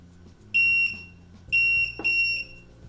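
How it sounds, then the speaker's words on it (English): An OKP K2P robot vacuum gives three shrill high-pitched electronic beeps, each under half a second, in an uneven sequence close by, with a faint thud and low background hum between them. "It's flashing and beeping, so now it's in pairing mode"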